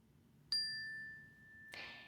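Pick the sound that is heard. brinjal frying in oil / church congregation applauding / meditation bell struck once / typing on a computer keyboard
meditation bell struck once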